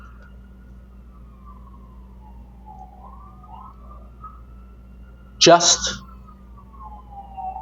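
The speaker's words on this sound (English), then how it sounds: "Hear the sirens, New York City." An emergency vehicle siren wails in a New York City street, a fairly faint rising and falling tone from some distance that runs throughout, briefly covered by a short burst of speech.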